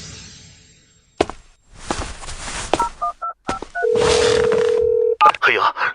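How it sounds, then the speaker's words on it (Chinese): A phone number dialed on a telephone keypad: a quick run of short beeping tones, then one long steady tone, with voices and rustling around them. "你怎么想起给我打电话来了？"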